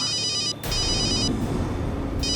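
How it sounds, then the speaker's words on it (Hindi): A telephone rings in repeated electronic bursts, loud and close, with a brief gap between rings and a steady background rumble. "फोन आ रहा है।"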